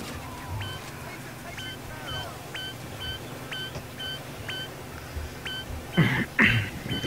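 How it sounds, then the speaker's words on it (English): Repeated electronic beeping in the heist video game PayDay 2, a steady run of short high double-pulsed tones at regular intervals over game background noise, with a couple of louder thumps near the end. "That's a lot of beeping."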